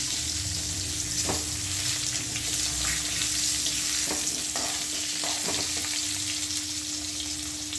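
Potatoes fry in a pan with salt and turmeric, giving a steady, close sizzle throughout, with a few brief clinks from a utensil stirring them.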